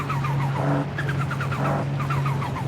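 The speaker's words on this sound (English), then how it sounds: "you hear the flutter and the blow-off valve all the time" A turbocharged car in Forza Horizon 5 revs with a rapid fluttering chatter from the turbo and hissing blow-off bursts over a steady engine drone, loud and continuous with no talking.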